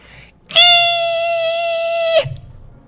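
A Cravers alien from the video game Endless Space 2 lets out a loud, sustained harmonic shriek lasting about a second and a half, starting and stopping abruptly, heard alone.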